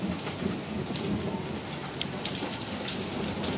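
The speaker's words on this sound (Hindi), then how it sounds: "यहाँ पे बारिश आ रही थी बड़ी तेजी से, और बारिश आते आते हो गए यहाँ पे बर्फ आने स्टार्ट, ओले आने स्टार्ट हो गए।" Heavy rain mixed with hail pours down steadily, a dense, close hiss with scattered sharper pattering impacts and a low rumbling background, continuous and without voices.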